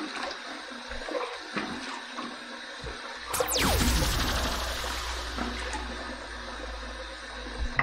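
A bathroom tap runs as the face is wetted before a shave with Supply Ultra Lather shave cream; quiet dribbles and handling give way to a sudden louder gush of splashing water that rushes steadily, then eases off near the end.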